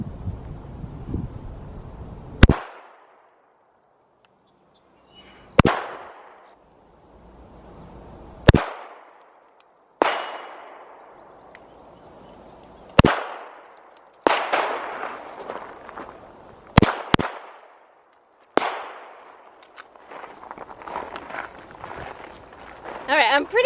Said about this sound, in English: I feel like I could shoot this gun all day long